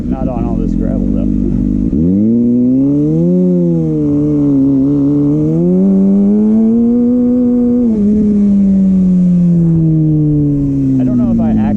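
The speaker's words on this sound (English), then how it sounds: "Try rolling burnouts." A Kawasaki ZX6R motorcycle engine revs up hard and holds a high, wavering note for several seconds during rolling burnouts, then slowly winds down, loud and close.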